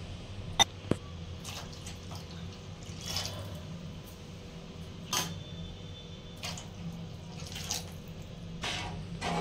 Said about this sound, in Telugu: 3 గ్లాసుల వాటర్ అయితే మనం పోసుకోవాలి